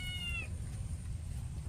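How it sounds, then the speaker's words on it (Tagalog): A hungry pet cat gives a single short meow at the start, heard over a steady low rumble of cooking noise in a kitchen, with no one talking. "Nagugutom na yung aking alagang pusa."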